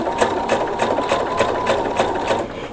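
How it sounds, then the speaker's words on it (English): Sewing machine stitching rickrack trim down a drawn line on a girls' skirt, a steady close hum with a rapid, even needle pulse running continuously throughout. "keep that rickrack right over that drawn line and stitch right down the center of the rickrack"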